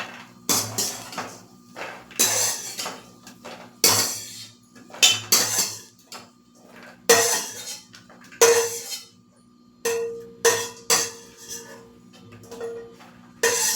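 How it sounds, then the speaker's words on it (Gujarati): Roasted cashews, almonds and makhana being scraped and tipped from a pan into a dish, with repeated clattering metal clinks and scrapes in irregular bursts, close and fairly loud, no talking. "હવે ગેસ બંધ કરી લેશું અને આપણે એને એક ડીશમાં નીકાળી લેશું"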